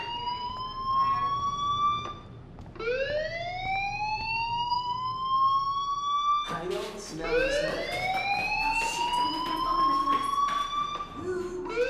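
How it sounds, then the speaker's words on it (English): A school fire alarm in the Life Is Strange video game sounds in repeated rising electronic whoops, looping steadily and loudly over the whole stretch, with a brief gap before each new sweep. "do you hear that fire alarm?"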